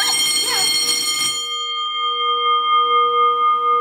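A loud electric school bell installed in a house rings continuously for about a second and a half, then cuts off, leaving a steady high tone and faint clicking.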